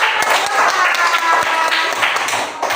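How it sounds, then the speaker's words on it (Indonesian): A group of children in a classroom clap their hands together in a dense, steady patter of overlapping claps lasting a few seconds, fairly close. "Pintar, tepuk tangan"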